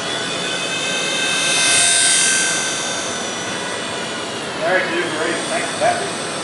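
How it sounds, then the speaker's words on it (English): A small plastic radio-controlled helicopter buzzes with a steady high-pitched whine and rotor rush, nearby, while voices murmur briefly toward the end. "little plastic helicopter."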